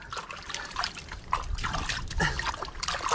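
Crabs being rinsed by hand in shallow water: irregular trickling and splashing sounds with small sloshes, close and fairly quiet, with no talk.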